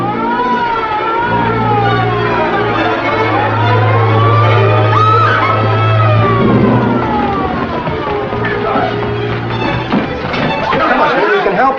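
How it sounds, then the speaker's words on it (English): A loud wailing ambulance or police siren rises and falls continuously over a busy background of chatter and traffic noise. "It's a siren. Probably an ambulance or a police car."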